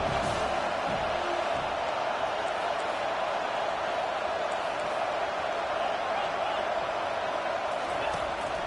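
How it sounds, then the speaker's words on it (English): A stadium crowd at a Wisconsin at USC college football game keeps up a steady, dense, far-off roar throughout, with a commentator talking over it. "This crowd going to try to make life miserable for these guys."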